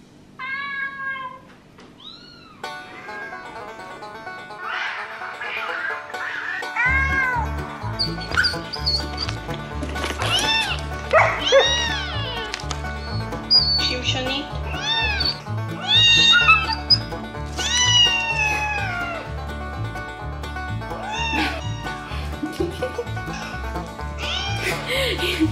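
A fake cat used in a prank on a dog gives repeated drawn-out meows and yowls while the dog barks and whimpers in reply, all over a steady rhythmic musical beat.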